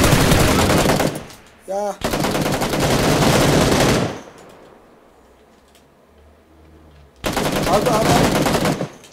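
Bursts of rapid automatic gunfire crackle loudly in PUBG Lite, two long sustained volleys separated by a quieter pause, with players talking briefly between them.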